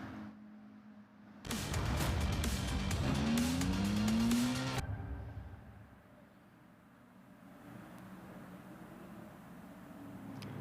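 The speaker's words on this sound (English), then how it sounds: "So the cars making their way out of Druids are about to head underneath the Warwick Bridge." Ferrari Challenge UK race cars at Oulton Park roar past loudly as a pack, engines rising and falling in pitch, then fade away into a distant hum with crowd-like ambience.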